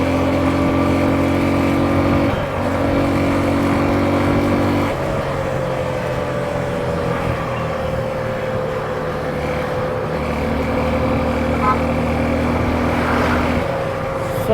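Suzuki V-Strom 250 motorcycle engine accelerating, a loud close drone that climbs through gears with brief shift dips, revving up again toward the end.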